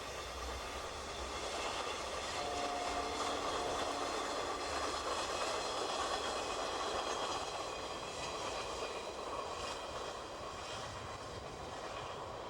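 D&H 557 leads a colorful locomotive lash-up past on a cold winter day, a continuous broad roar of the moving train holding steady throughout with no voices.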